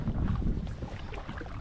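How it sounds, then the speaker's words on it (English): Wind gusting over open water during a November paddleboarding outing, a steady low rumbling buffet against the microphone that holds at a fairly constant level throughout, with no voices. "Wind's picking up just a little bit."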